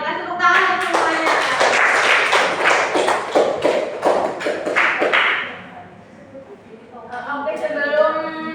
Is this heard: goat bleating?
no